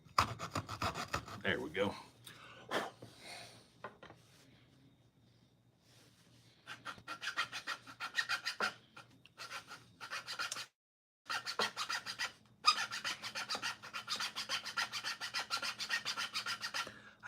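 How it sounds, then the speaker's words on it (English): Small hand saw rasping through wood in steady back-and-forth strokes, with a brief pause partway through before the sawing resumes; a voice says a few words near the start. "Get my little, my trusty little saw right here."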